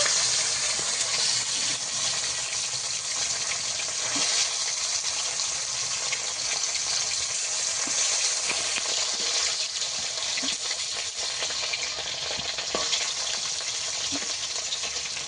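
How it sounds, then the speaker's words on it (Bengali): Bhola fish heads fry in hot oil in a pan, a steady bright hiss and sizzle that carries on unbroken, with a few faint clinks underneath. "মাথাগুলো ভাজার জন্য আরেকটু তেল দিয়ে দেব। মুড়োগুলো ভেজে নেব।"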